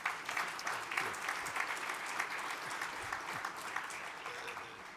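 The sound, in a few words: audience applause for panel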